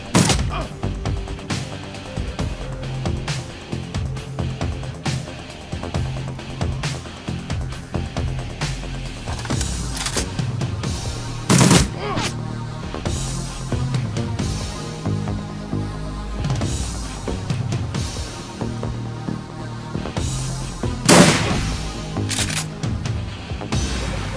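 Rapid gunfire from an AK rifle in the video game Shadowrun Returns, dense bursts of shots and thuds layered over game music throughout, with two louder impacts standing out.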